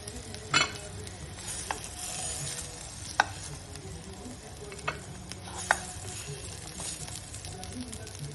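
Malai koftas shallow-fry in a pan over moderate heat, giving a steady soft sizzle with a few sharp clicks and pops scattered throughout, close and fairly quiet with no talking.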